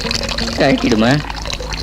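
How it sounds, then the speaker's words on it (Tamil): Water running from a household tap, a steady splashing flow under a clearly spoken voice in the foreground. "பாப்பா பைப்பு மூடு, தண்ணி வேஸ்ட் ஆகுது"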